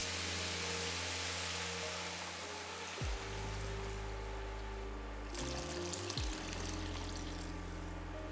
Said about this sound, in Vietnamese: Xào khoảng 2 phút rồi mình sẽ cho nước luộc gà lúc nãy vào.